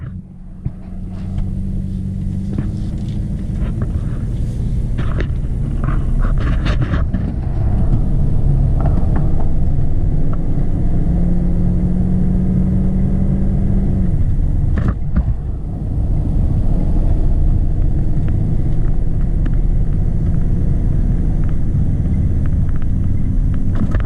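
A V10 engine with the catalytic converter cut off, its loud exhaust rumbling steadily and close with a few swells in revs and brief sharp clicks, no one speaking.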